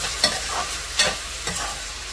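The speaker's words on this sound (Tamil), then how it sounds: "தக்காளி சேர்த்துட்டு நல்லா வதக்கிக்கலாம்." Tomatoes sizzling in a hot pan for mutton kurma while being stirred, with three brief scraping strokes of a spoon against the pan over a steady fry.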